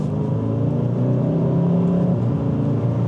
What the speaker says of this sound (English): it's just like a 4-cylinder exhaust.